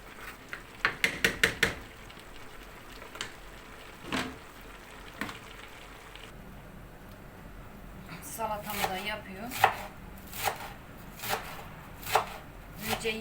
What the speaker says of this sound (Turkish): Şimdi soğanları doğrayayım yeşil soğan